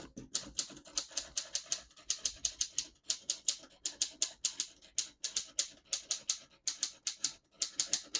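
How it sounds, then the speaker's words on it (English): Rapid, even clatter of keys striking paper on a 1941 Corona Comet portable typewriter as a sentence is typed, with steady close-up keystrokes and a brief pause near the middle. "I'll type a sentence on the next line."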